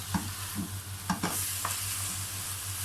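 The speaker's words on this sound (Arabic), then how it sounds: "احنا شوحنا البصل شويه والثوم زي ما قلنا لكم اهو" Chopped onion and garlic are sautéed lightly in a pan, a soft sizzle broken by a few scraping stirs of the spatula, quiet and close, with a low steady hum underneath.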